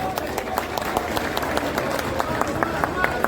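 Scattered clapping comes from the audience at a residents' association annual general body meeting, with sharp, irregular claps repeating steadily over soft room murmur.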